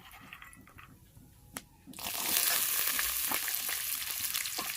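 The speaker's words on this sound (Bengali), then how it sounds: "আগে থেকে আমি সেদ্ধ করে রেখেছি ছোলা, তো আমি এখানে ছোলা দিয়ে দেব" Boiled chickpeas tipped into a frying pan of taro greens, bringing a sudden loud hiss of sizzling oil that swells and holds steady after a quieter start with a light knock.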